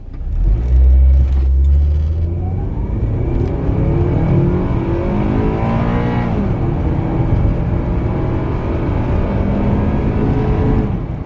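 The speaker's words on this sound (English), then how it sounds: "So I got my hands on an automatic stock Accord Euro for the 0 to 100 test." A stock automatic Honda Accord Euro accelerates from 0 to 100, its engine rising in pitch through loud, close revs, with an audible gear change partway before climbing again under steady cabin rumble.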